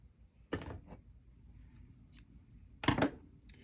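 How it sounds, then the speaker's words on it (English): Scissors snipping crochet yarn, two short sharp cuts close to the listener separated by a pause of about two seconds, with light handling noise between them and no talking. "go ahead and cut your yarn."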